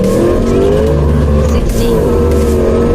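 A Whipple-supercharged 2024 Ford Mustang S650 launches hard, its engine roaring loud and close while the rear tires spin and squeal in a steady, dense blast of noise.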